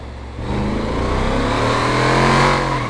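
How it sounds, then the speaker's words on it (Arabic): A car engine revs hard in a GTA roleplay video game, a loud, steady, rising roar that climbs in pitch and holds strong with no talking over it. "السياره سريعه يا شباب. اوح اسمع الصوت."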